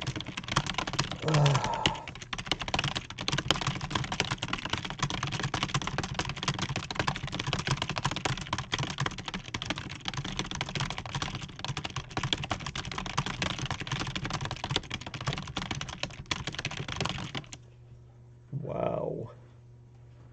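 Rapid, continuous typing on a computer keyboard clatters for a long stretch, then stops, followed by a brief voice.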